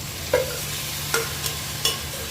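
Soaked vegetables for vegetable biryani dropped into hot oil in a pressure cooker, a low steady sizzle punctuated by three or four distinct stirring clacks and scrapes, close and fairly quiet, without talking.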